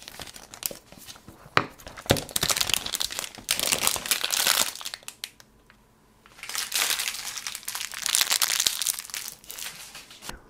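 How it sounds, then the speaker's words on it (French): Packaging of an iPhone 12 Pro box crinkles and crackles up close during an unboxing, in two long bursts of rustling with a brief quiet gap between them. "Nous allons ouvrir la boîte."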